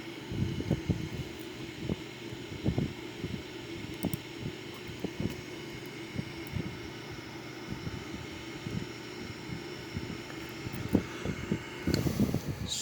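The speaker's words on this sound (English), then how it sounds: "you're gonna see the engines are slowing down as it should be" Boeing 787 engines spooling down in a flight simulator give off a steady low jet drone and hum with faint rhythmic thumps, heard alone and fairly quiet throughout.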